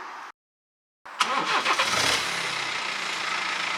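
A BMW 116d diesel engine cranks and catches after a brief silence, then settles into a steady, close diesel idle.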